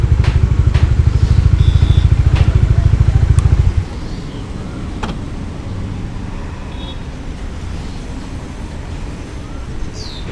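A Bajaj Dominar 400 motorcycle, clutch pulled in, its engine held at a loud, throbbing high-rev pulse for several seconds before dropping back to a steady, lower idle rumble, recorded up close.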